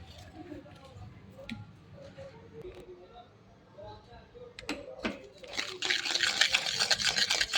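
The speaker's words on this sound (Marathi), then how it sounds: "आपल्याला विस्करच्या साहाय्याने चक्का चांगला फेटून घ्यायचा आहे" Strained yogurt (chakka) with powdered sugar being whisked in a bowl, with faint scrapes at first, then the whisk speeds up into a dense, rapid, close swishing and tapping.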